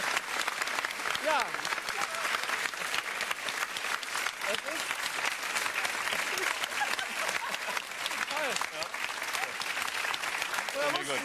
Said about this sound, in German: Würden Sie jetzt bitte klatschen?